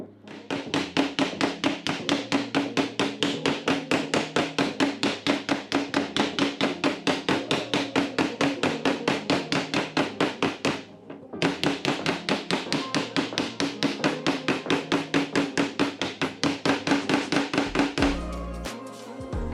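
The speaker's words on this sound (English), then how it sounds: "Time to get the trusty mallet here and give it a crack," A mallet hammers a clamped metal panel for a 1930 Ford hot rod, steady rapid strikes of even rhythm in two long runs with a brief pause between, close and loud.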